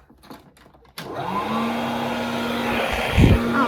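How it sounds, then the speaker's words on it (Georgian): A hair dryer switches on abruptly and blows with a steady, loud whirring roar that continues without pause. "ფენია."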